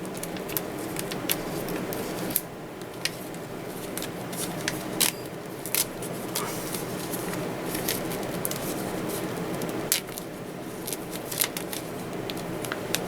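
An acrylic paint skin is slowly peeled away from a surface, giving a close, quiet stream of tacky crackles and small sticky snaps, with a few sharper clicks scattered through.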